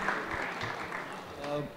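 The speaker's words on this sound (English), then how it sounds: "So a round of applause for IWM, and a round of applause for us for being here." Audience applause at a kids-content industry panel, a steady broadband patter that runs through the short stretch, mixed with crowd murmur.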